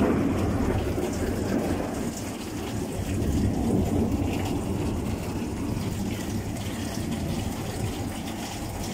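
A thunderstorm pours heavy rain over Komsomolsk-on-Amur, a dense, loud, continuous roar of rainfall with deep rumbling underneath.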